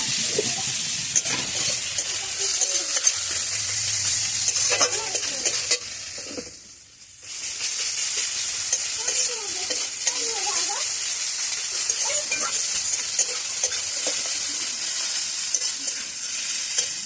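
Turmeric and chili paste fry in a pan with a steady sizzle while a utensil scrapes and stirs, briefly dipping quieter midway before the loud frying hiss resumes.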